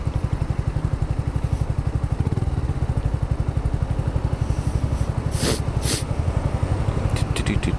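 A Yamaha R125 motorcycle revs and pulls away in traffic with a rapid, buzzy single-cylinder pulse close to the microphone, carrying steadily throughout with brief higher noises near the end.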